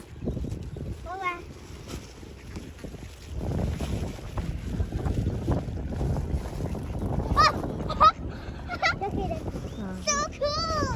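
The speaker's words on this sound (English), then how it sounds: "Oh, bunch of birds." A flock of ducks and geese being fed by people, honking and calling in short bursts under wind noise and the chatter of an adult and children, the calls growing louder and busier toward the end.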